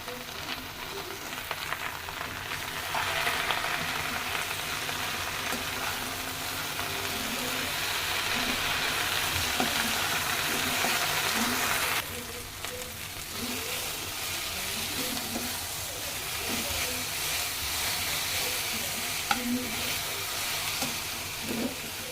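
Jute leaves fry in a pan with onion and four or five green chillies, sizzling and crackling up close for a long stretch with occasional stirring, no voices.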